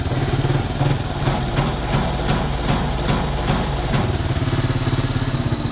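Yamaha YTX125 motorcycle engine with a faulty CDI running close and loud, a steady idle chug broken by uneven misfiring stumbles and faint clicks.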